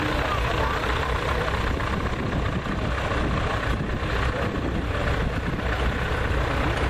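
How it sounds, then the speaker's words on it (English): A 1949 M Diesel tractor rolls past in a parade, its engine giving a steady, loud, low rumble that holds throughout with no obvious change in pace. "An M Diesel, a 1949 model, owned by Virgil Zink and driven today by Bud Shaw"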